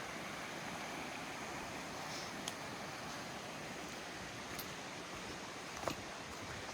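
A creek flows past a quaint campsite below Laurel Falls, giving a steady, even rushing wash of water throughout, with a couple of faint clicks and no voices.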